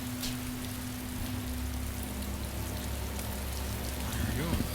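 Steady rain falls in the survival game DayZ, a constant soft hiss of drops filling the whole stretch at an even level, with a faint low hum underneath and a brief rise in activity near the end.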